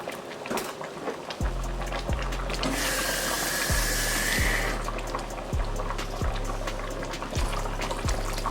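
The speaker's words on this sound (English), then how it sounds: "And I'm going to add a little bit of water." Water splashes and pours steadily into a pot of Jamaican stew peas for a couple of seconds amid a low rhythmic hum and faint kitchen clatter.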